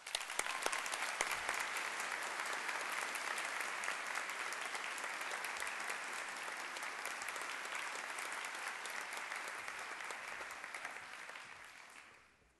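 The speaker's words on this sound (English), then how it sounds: "Let's give them a round of applause." Sustained audience applause at an honors convocation for graduating seniors, dense and steady throughout before fading out at the end, with no talk over it.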